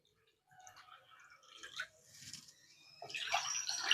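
Water poured from a bowl into a cooking vessel while preparing rice-flour idiyappam, a splashy trickle that builds to a louder, steady pour near the end, close by.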